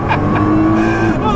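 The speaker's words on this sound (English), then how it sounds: "What you hear is, the inhalation of all this air feeding the turbos, right?" A 2015 Nissan GT-R Nismo accelerates hard from inside the cabin, with a loud, dense engine roar and rising turbo intake whine that hold steady through the short burst.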